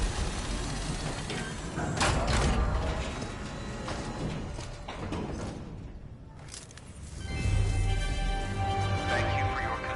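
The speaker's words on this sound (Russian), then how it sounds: "О, у меня принтер сработал." A fabricator printer runs in Death Stranding with mechanical whirring, ratcheting clicks and sliding whooshes, steady and fairly loud over about ten seconds, dipping briefly before a final surge.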